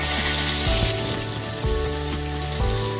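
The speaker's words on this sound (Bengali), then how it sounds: "তো আলুগুলোকেও আমি একটু ভালো করে ভেজে নেব আগে।" Potatoes fry in a pan for chapor ghonto, giving a dense, even hiss that runs the whole time over a low steady hum from the kitchen.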